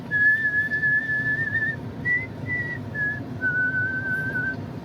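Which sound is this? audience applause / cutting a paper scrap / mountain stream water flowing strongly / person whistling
person whistling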